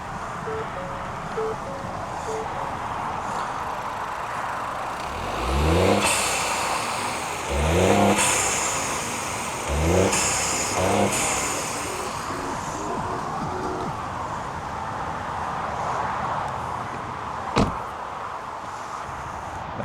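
A Ford Focus MK3 EcoBoost engine idles and then is revved in several separate blips, each a rising surge that drops back to a steady idle, with a sharp click near the end.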